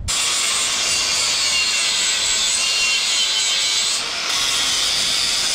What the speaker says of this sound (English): grind this down a little bit better